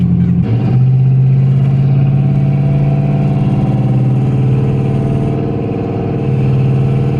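Car engine in a rebuilt vehicle pulls hard through its rev range as the transmission shifts into a higher gear early on. A loud, close, continuous drone then settles and holds, without anyone talking.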